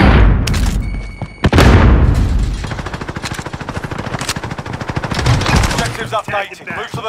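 Heavy automatic gunfire in Call of Duty: Modern Warfare, loud and continuous rapid bursts with a couple of booming impacts early on, the rattle tapering into scattered shots toward the end.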